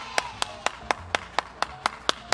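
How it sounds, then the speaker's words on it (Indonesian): Ten sharp, evenly spaced hand claps at a steady rhythm, close and crisp, cheering on the children at an online Sunday school session over a faint background hum. "dia tepuk tangan buat Super Kids yang luar biasa."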